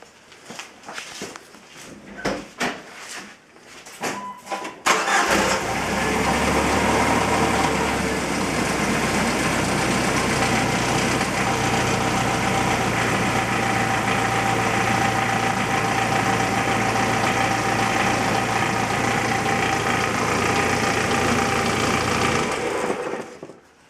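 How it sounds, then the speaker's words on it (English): A Jeep Wrangler TJ engine starts right after an oil change and settles into a steady, close idle that runs unbroken for most of the clip, following a few seconds of quiet shuffling and handling sounds. "We're going to start up the engine to cycle the oil through"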